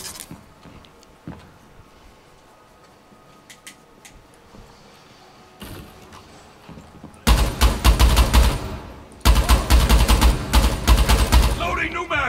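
Rainbow Six Siege gunfire sprays through a wall in loud automatic bursts, two sustained volleys in the second half after quieter game sounds and clicks at the start.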